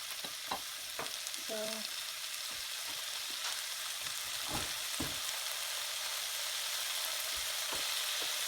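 Chicken with tomatoes for a Filipino dish simmers and sizzles in a pan with a steady broad hiss, broken by a few sharp clinks of a utensil against the pan. One brief spoken word sounds near the start.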